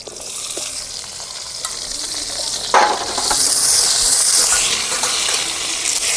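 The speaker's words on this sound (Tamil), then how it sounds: "நல்லா வதக்கி எடுத்துக்கலாம். வெங்காயம் நல்லா சிவந்துக்கிடுச்சு." Onions and curry leaves sautéing in a pan for a potato white kurma, with a continuous hissing sizzle that swells partway through and a few stirring scrapes, heard close with no speech.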